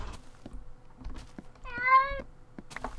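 In the Minecraft video game a cat gives a single clear meow midway, close and distinct, with soft clicks and game sounds before and after it.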